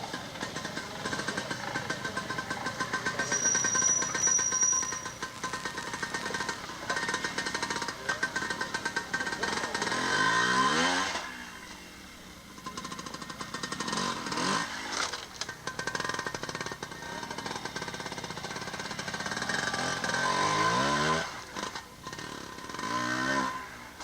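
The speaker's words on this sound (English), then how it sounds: "Diego Bozes now riding" A trials motorcycle is ridden at a World Observed Trials Championship round in Bodines, Pennsylvania, its engine revving in sharp bursts and sputtering at idle, fairly close and loud, with a quieter lull midway and faint talk underneath.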